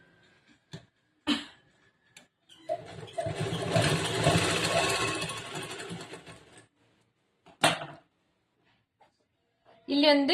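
A sewing machine runs in one burst of a few seconds while stitching a blouse, close and whirring, with brief clicks and short speech before and after.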